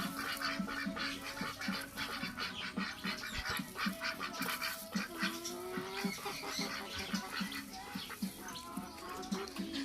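Several ducks quack and squawk repeatedly nearby, a busy chattering flock with other farmyard fowl mixed in, fairly steady throughout.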